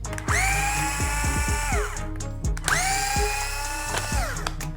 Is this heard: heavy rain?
no